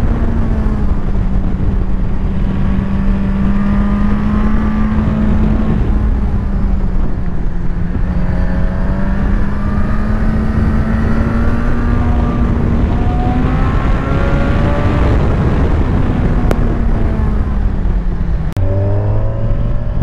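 Kawasaki Ninja 1000 SX motorcycle engine under load while riding a curve, a loud, steady drone whose pitch rises and falls slightly with throttle through the bend, close-up and sustained under wind rush, with a brief shift near the end.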